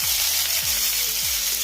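Onions sizzle in a pan of hot oil with cumin seeds, a steady close frying crackle with a low thud of stirring about every half second, no voices.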